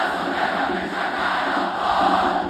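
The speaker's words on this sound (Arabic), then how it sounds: "الجمهور حس ان الاهلي عايز يشد شويه فبدا يحفزوا اللعيبه" Football crowd at an Al Ahly match roaring and chanting steadily to urge on the players, a dense, continuous wall of voices with no individual speech.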